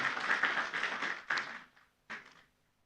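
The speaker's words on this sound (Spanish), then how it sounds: "Un aplauso fuerte más para Coro Nueva Alegría." Applause for a church choir at a Sunday service fades out, then a short final burst of clapping dies away.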